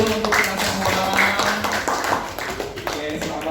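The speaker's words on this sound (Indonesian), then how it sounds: "Tepuk tangan dulu untuk kita semua." A classroom of students claps hands together, a dense and steady wash of clapping mixed with voices talking over it at close range.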